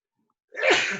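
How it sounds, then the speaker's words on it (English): One sharp, close sneeze bursts out after half a second of silence, loud and breathy, with no speech around it. "I'm going to sneeze"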